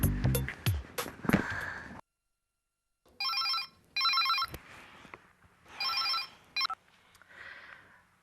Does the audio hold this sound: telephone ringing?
yes